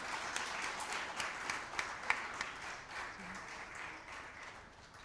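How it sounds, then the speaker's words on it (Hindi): Audience applause at a joint replacement patients' reunion event as a doctor is called on stage: steady, fairly faint clapping from a crowd, sustained evenly for several seconds. "आपकी सभी की जोरदार तालियों के साथ"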